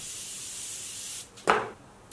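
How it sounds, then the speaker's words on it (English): A single short hissing burst of makeup setting spray, close and fairly loud, following a low steady background hiss. "I'm gonna spray some of this prep spray first"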